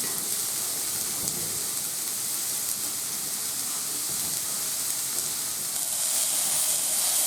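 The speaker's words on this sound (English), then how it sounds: "Yeah, you stir fry, so it's like that." Garlic, zucchini and minced vegetables stir-fry in a pan as pasta sauce is being made, giving a steady, close, dense sizzling hiss that holds evenly throughout and grows slightly brighter near the end.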